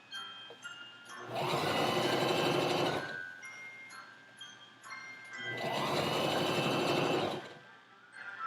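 Domestic sewing machine stitching a sleeve into an Edwardian shirtwaist mock-up, running in two close bursts of steady whirring of about two seconds each, with quiet pauses between.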